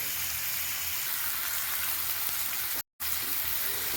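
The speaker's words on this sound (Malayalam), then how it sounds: "ചിക്കൻ കോരി മാറ്റി ആ വെളിച്ചെണ്ണയിലേക്ക് ഞാനിതെല്ലാം ഇട്ട് വഴറ്റുകയാണ്" Onion, green chili, ginger and curry leaves sauté in hot coconut oil left from frying chicken, giving a steady, loud close-up sizzle with one brief dropout to silence near the end; no one talks.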